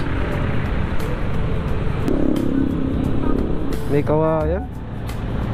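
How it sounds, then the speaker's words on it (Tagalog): Heavy road traffic in Balagtas, a two-lane market area, rumbles as a steady dense wash of engines and passing vehicles, with a brief horn-like tone and someone speaking over it. "Heavy traffic nangyari dito"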